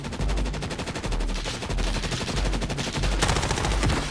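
Rapid automatic gunfire in the shooter game Warzone, loud, continuous bursts of rattling shots close up with brief gaps, no voices over it.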